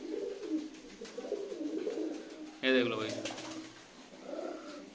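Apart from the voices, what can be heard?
Punjabi and Madrasi pigeons cooing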